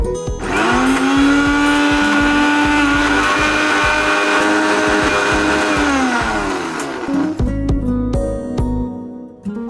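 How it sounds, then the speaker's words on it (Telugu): Mixer grinder grinding soaked moong dal for pesara gaarelu in a kitchen, a loud steady whirring motor hum that holds for several seconds, then winds down and stops with a few clunks near the end. "సరే, మిక్సీ పట్టుకొని వచ్చేద్దాం."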